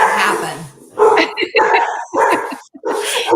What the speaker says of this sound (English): Your dogs are agreeing with you.